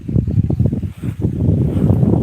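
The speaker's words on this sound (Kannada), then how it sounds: "ತಣ್ಣನ ಗಾಳಿ ಬಿಸ್ತಾ ಇದೆ" Strong gusts of cold wind over farm fields buffet the microphone in heavy, rumbling bursts, loud and close throughout.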